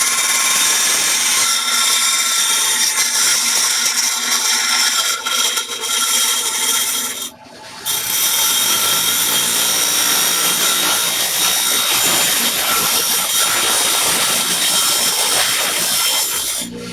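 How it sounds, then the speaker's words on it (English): A bench grinder working a Cutlass handguard, a loud continuous grinding whine with a short dip and pause midway before resuming, harsh and steady with no voices. "Go back over here to the bench grinder."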